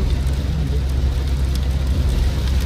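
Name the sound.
heavy rain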